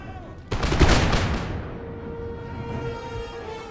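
A musket volley in Empire Total War cracks out as one sharp ragged burst of many shots, then rolls away into a fading rumble with battle noise beneath, loud and close.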